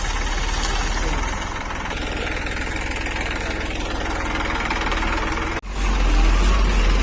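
A tractor engine runs steadily while plowing a field, a continuous mid-pitched rumble with vibration, close and loud, dropping out briefly near the end before resuming; voices are heard over it.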